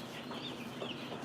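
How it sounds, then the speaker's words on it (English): Chickens in a farm brooder room clucking softly in the background, a faint steady murmur of low clucks and chirps with no distinct single call standing out. "Lots of chickens in the background."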